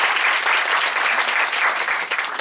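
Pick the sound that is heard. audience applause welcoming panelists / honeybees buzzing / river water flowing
audience applause welcoming panelists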